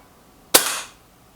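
A single shot from a Benjamin Akela air rifle fired outdoors in a garden at a card target 23 metres away: one sharp, loud crack with a short fading tail, alone against quiet surroundings.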